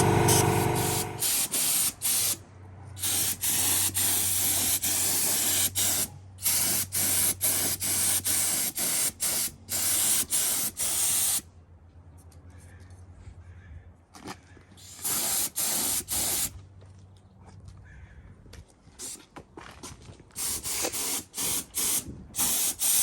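Bursts of spray paint hiss onto a 454 big-block engine block as another coat goes on, in repeated close, loud blasts separated by short pauses, with a low hum underneath for a stretch.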